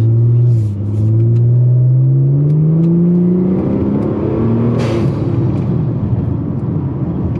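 A boosted Ford Taurus SHO engine revs at full throttle, heard loud and close as a rising droning pull. The engine note climbs steadily over several seconds, with a faint hiss of boost behind it.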